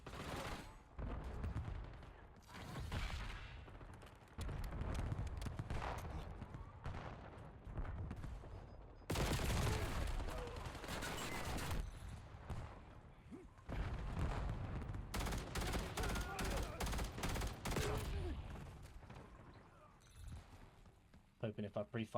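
Rapid gunfire from a Black Ops 7 match fills the scene in loud repeated bursts, with broad blasts and short gaps, while a player talks over much of the action.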